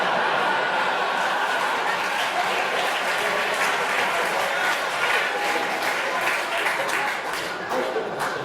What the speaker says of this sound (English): Thanks for the clap.